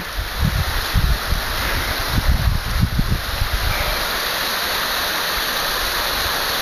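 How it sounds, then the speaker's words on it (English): Small waterfall running down a hillside outdoors, a steady broadband wash of falling water throughout, with some low rumbling wind-like buffeting in the first half. "Nice little waterfall coming down the hill."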